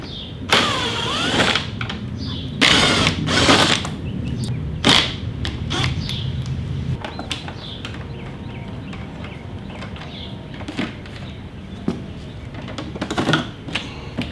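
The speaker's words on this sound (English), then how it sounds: "now we got to take these 3 bolts off" Close metallic clicks and ratchety bursts come from a tool working bolts out of the fairing on a 2022 Harley-Davidson Street Glide Special, with uneven, separate strokes and quiet pauses between them.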